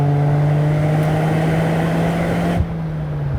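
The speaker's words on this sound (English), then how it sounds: "You can actually hear like whooshing from the engine" A 2023 Toyota GR Corolla engine pulls hard in second gear, a loud and steady drone with a whooshing edge from the engine bay that drops off suddenly as the throttle is released.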